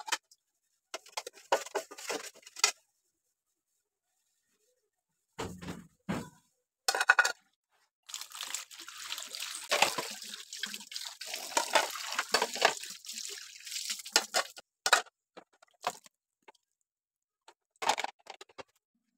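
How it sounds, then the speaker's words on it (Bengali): Tap water runs intermittently over plates and pots being washed by hand in a sink, in bursts of splashing and clattering separated by short pauses. "নাস্তা করে চলে আসলাম থালাবাটি ধোয়ার জন্য"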